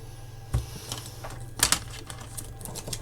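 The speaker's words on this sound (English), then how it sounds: "I'm going to take off the tape now." Masking tape is peeled off a 1:24 Airfix Hawker Typhoon plastic model kit, heard as faint close crackling strips and ticks in short bursts, with one louder rip in the middle.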